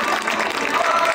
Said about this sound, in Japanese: 大きな拍手でお出迎えください。